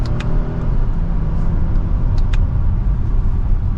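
A 2025 Lexus ES350 pulls hard in second gear in sport mode, its engine a loud steady drone and road rumble filling the cabin without a break, with a couple of faint brief clicks on top.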